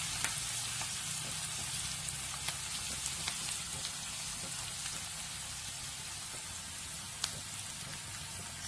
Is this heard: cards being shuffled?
no